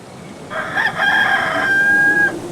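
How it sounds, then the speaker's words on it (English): A wild rooster in a haunted-house adventure game crows once, loud and close, in a drawn-out call lasting under two seconds, with no talk. "This wild rooster won't let me past."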